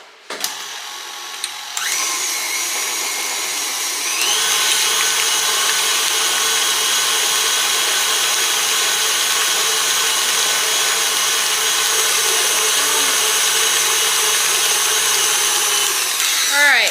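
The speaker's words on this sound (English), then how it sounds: "we're going to mix that up really well after we plug in our mixer" An electric mixer whirs through peanut butter mixture for buckeye brownies. After a brief click it spins up into a loud, steady motor drone that intensifies a few seconds later and runs continuously with no talk.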